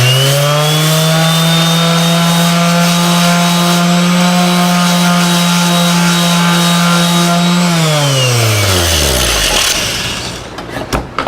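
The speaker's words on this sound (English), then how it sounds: "Here's my random orbital. I got the sandpaper." A random orbital sander with 220-grit paper runs on charred shou-sugi-ban wood, giving a loud, steady whirring drone that holds for several seconds, then winds down as the motor spins to a stop.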